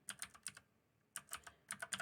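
Quiet typing on a computer keyboard comes in two quick flurries of light key clicks, close by, with a short pause between them and no talking.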